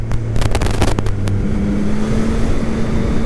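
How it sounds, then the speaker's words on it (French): Engine of a 2021 Yamaha MT-09 SP motorcycle on its stock exhaust, heard while riding: a steady, loud drone with a few sharp clicks at the start and a shift in pitch partway through. "Le son est pas mal pour un pot d'origine."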